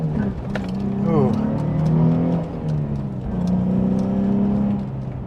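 A Nissan 350Z with a VQ35DE V6 engine climbs through a couple of rising revs and settles back, the exhaust tone sweeping up and down close by.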